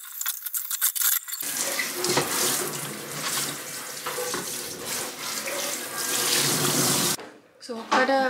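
Tap water runs steadily into a kitchen sink while dishes are washed, a loud, close, continuous rushing that cuts off near the end, followed by a brief voice.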